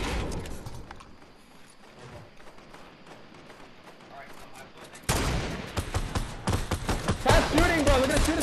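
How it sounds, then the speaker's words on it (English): Gunfire in the Fortnite End Event, at first distant scattered shots, then a loud dense burst of rapid automatic fire and thuds that takes over in the second half, with voices talking over it. "Stop shooting, bro."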